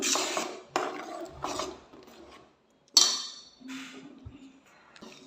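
Rice and milk being stirred in a cooking pot, a soft scraping and rubbing that comes in short repeated strokes, fairly close and moderately quiet, with brief pauses and a few faint clinks.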